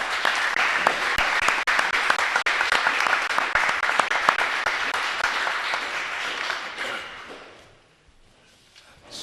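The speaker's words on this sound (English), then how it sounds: "How about a big round of applause for all these gentlemen, ladies and gentlemen?" A town board meeting audience gives a big round of applause for a group of gentlemen, dense sustained clapping that fills the room for several seconds before tapering off into near quiet at the end.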